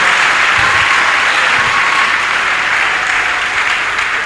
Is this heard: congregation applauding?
yes